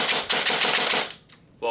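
Elite Force 4CRS airsoft rifle with a Retro Arms trigger firing semi-auto on an 11.1V LiPo, a rapid close string of sharp mechanical cracks for about a second, then a pause and one more burst.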